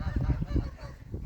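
Several geese honk in a burst of repeated calls at close range on an Australian farm in April, loud and continuous with no talk over them.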